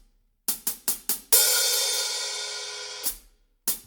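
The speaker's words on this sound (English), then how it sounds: "So it's just 2 double strokes, and then we leave the hi-hat open." Two quick double strokes on a closed hi-hat in a drum part, four tight ticks, then the cymbal is left open in a sustained hissing wash before it closes with a chick and more ticks, close and unaccompanied.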